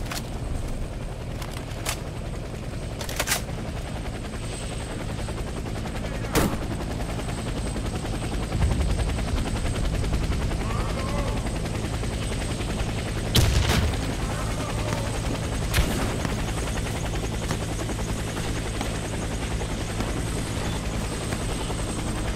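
A helicopter waits for extraction in the Warface co-op mission, its rotor droning loud and constant throughout, punctuated by occasional sharp bursts of gunfire.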